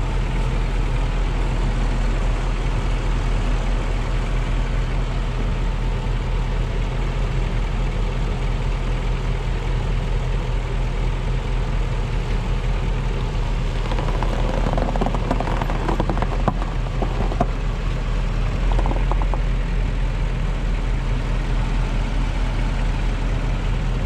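A truck inches forward at low speed to line up snow chains on the way to a mine, its engine a steady, loud low rumble with no voices throughout.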